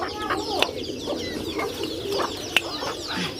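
Chickens cluck and chirp softly while eating, several close calls scattered over a quiet background with occasional pecking taps.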